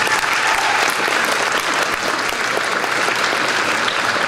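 A seated audience claps steadily and loudly for the people on stage, a dense, even roar of applause that carries through without a break.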